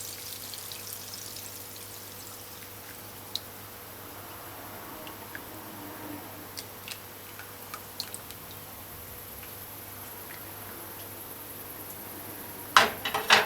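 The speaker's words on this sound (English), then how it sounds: "Add the melted butter." Melted butter poured into a Jamaican-style Easter bun mixture with molasses, a soft and steady trickle with faint drips under a constant low hum, ending in a few louder knocks and clatters of utensils.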